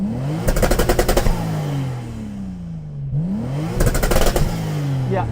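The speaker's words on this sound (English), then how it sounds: "you can't really experience the exhaust noise when you're stationary" A stationary Toyota Supra Mk4 TRD revs hard twice, the engine climbing quickly to a rattling peak, then falling back to a steady idle between and after the bursts. Loud and close.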